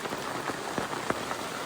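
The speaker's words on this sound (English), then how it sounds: "Okay, now it's hailing outside." Small hailstones falling outside at a creekside campsite, a dense steady patter on surfaces with a few sharper taps standing out, close and continuous with no voices.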